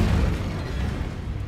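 An Incendio fire spell bursts in Hogwarts Legacy, a muffled, rumbling whoosh that starts strong and slowly fades, heard alone.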